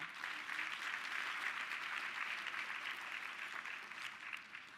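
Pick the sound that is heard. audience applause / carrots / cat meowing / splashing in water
audience applause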